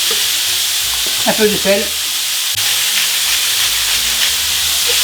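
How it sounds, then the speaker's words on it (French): Minced meat for a hachis parmentier fries in a hot, fat-free pan, a loud, steady hiss of sizzling that continues throughout while a voice speaks briefly. "la viande dans la poêle. On va la faire revenir."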